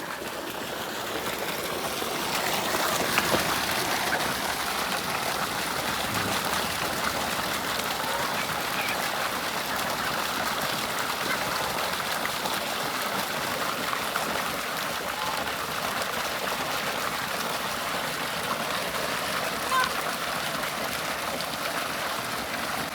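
Tubewell pumping water on a farm: a steady, broad rush of running water pouring continuously, close and fairly loud, with no talk over it.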